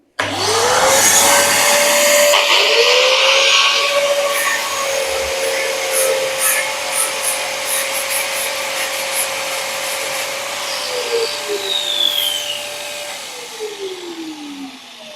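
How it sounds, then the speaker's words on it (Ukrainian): A vacuum cleaner starts up with a rising whine and runs steadily at close range in a bathroom during tile grout removal, loud and continuous, before winding down at the end. "Так, включаю зараз пилісос."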